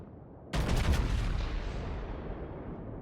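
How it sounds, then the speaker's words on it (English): A single heavy naval gun blast from a tier 10 warship battle in World of Warships hits sharply, then a long rumbling boom decays over a couple of seconds, loud and alone. "Now the friendly destroyer here is under heavy fire."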